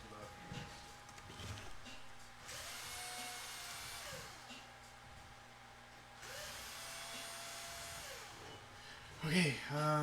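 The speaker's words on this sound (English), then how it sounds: "I'm gonna drill again" Power drill in a workshop where a wheel-encoder robot is being built, a faint whirring motor running in two sustained bursts of a few seconds each with steady tonal hum, close by and fairly quiet.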